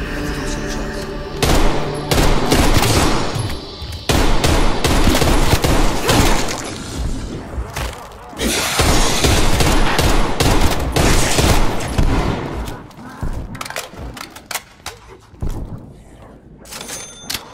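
Rapid bursts of gunfire from the Black Ops Cold War shooter, with shotgun blasts mixed in. Loud, dense shots keep coming for most of the stretch, then the firing thins toward the end.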